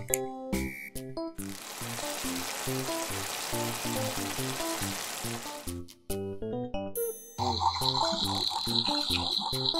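Fish frying in oil in a pan during toy kitchen play makes a dense sizzle that lasts several seconds under light background music, then stops, and the music continues.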